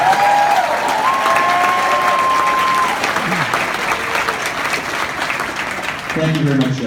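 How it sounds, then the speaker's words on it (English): Audience applause at a school parents' concert, steady clapping filling the hall for several seconds, with a faint tone sounding under it early on. "Students, please join me in a round of applause"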